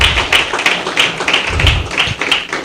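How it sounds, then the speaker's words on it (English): An audience at a MindTalk talk event applauds themselves, a loud, steady round of clapping with regular sharper claps, heard alone with no voices. "please give yourselves a round of applause"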